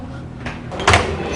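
A door swings open or shut indoors in a home as a visitor arrives, giving a single short knock-like thud near the middle of the clip, set against busy room noise.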